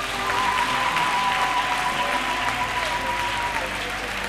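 Church congregation claps loudly and continuously for the Lord Jesus during a French- and Lingala-language worship service, steady dense applause with a sustained tone and background voices throughout.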